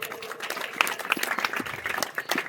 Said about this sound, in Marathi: टाळ्या. 1 2 3 कशा वाजवता तुम्ही?